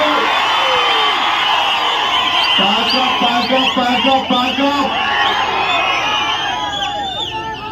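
Party workers at an outdoor political rally shout, whoop and cheer in a dense, loud crowd roar, with scattered high yells and whistles rising throughout.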